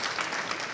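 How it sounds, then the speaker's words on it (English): A very short, soft burst of audience clapping, heard briefly. "So clap for yourself."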